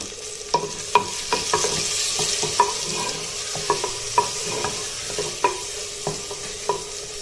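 Tomatoes fry with onions in a pot, a close steady sizzle punctuated by regular sharp scrapes and taps of a spoon stirring every half second or so, with no voices.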